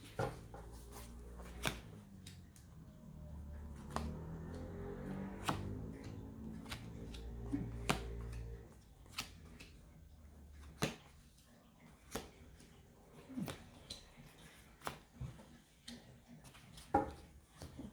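Tarot cards are shuffled with quick riffling bursts and sharp taps, then scattered clicks and snaps as the deck is handled and cut, close and quiet.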